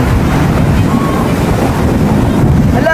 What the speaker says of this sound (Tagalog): Ito na tayo sa dagat!